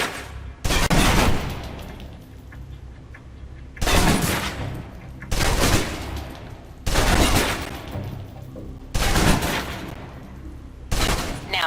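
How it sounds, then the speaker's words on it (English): A submachine gun emptying full clips in the Alpha Protocol video game, several loud sustained bursts of rapid fire separated by short gaps, with no speech. "Now, let's move on to the submachine gun. Now let's empty the clip."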